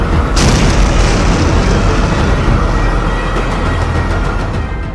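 A massive booming blast erupts and then rolls on as a long, loud rumbling roar that slowly fades, with no voices.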